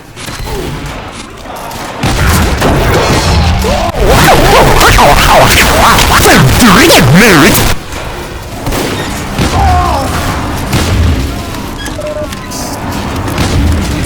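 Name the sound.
loose cannon explosions from a video game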